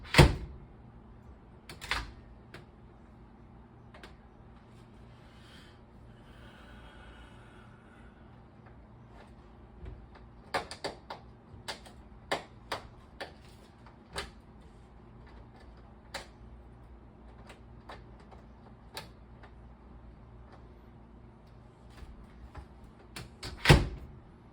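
A Frigidaire microwave door opens and closes after a handle replacement, heard as sparse, quiet clicks and latch knocks over a low hum, with a cluster of taps midway and a sharper thud at the end.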